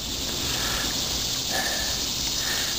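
A steady high-pitched insect drone fills the air, continuous and fairly loud, like cicadas buzzing in nearby trees.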